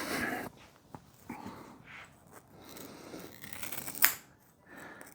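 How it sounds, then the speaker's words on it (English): Scissors snipping through upholstery fabric while trimming around the back legs of a throne chair, with a few short, close cuts and rustling of the material, no talk. "Just using your scissors, cut that."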